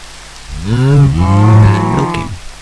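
A cow in modded Minecraft gives one loud, drawn-out moo lasting about two seconds, close up and alone.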